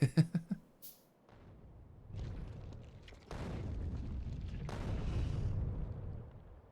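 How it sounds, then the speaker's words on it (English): Artillery shells in the video game Factorio slam into an enemy nest: a quick burst of sharp launch thumps, then low rumbling distant impacts that swell and roll on as a sustained boom. "I can also throw some shells at this small nest up here as well."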